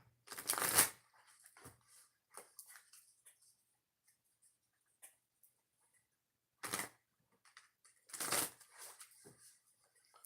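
Oracle cards are shuffled by hand for a bonus reading, with papery riffles and slaps coming in irregular bursts and quieter rustles between them, close and alone.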